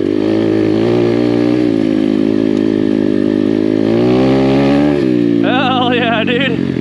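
A Chinese Apollo dirt bike engine revs hard up close while riding hard enduro terrain, a loud raspy drone climbing in pitch, dropping at a gear change, then rising again with rapid throttle wavers.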